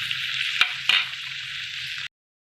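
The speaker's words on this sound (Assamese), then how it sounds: "এতিয়া এইখিনি মই 10 মিনিটছৰ কাৰণে মিডিয়াম ফ্লেমত ৰাখি দিম।" Chicken curry sizzles steadily in a pan over a medium flame, a continuous close frying hiss with two brief clinks of a utensil partway through, then it cuts off abruptly.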